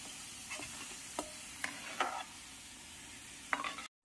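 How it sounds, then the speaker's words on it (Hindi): Potato fingers half-frying in a kadhai of hot oil, a steady low sizzle with a few soft stirring scrapes and clinks scattered through, close and alone. "फिंगर को कढ़ाई में डाले हुए 3 से 4 मिनट हो गए हैं। इनको अभी हाफ कुक करेंगे।"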